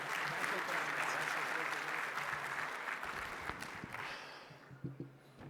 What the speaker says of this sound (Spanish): Por favor, démosle la bienvenida con un cariñoso aplauso a Juan.